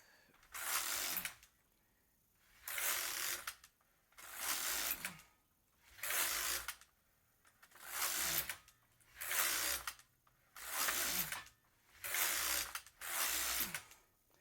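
A Brother KX350 knitting machine, fitted with tubing in place of its sponge strip, knits as the carriage makes regular whirring passes about every second and a half, each a loud buzzing sweep separated by brief quiet gaps.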